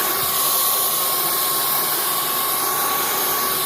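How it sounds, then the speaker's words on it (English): A Proscenic cordless vacuum cleaner runs steadily nearby with a loud, even whooshing roar and a thin high whine, with no breaks. "See? Picks up everything. I like the vacuum."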